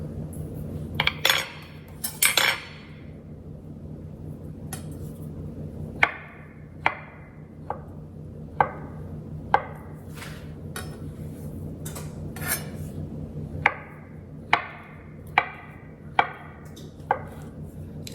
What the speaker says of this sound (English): we're going to take our avocado and we're going to dice it up as well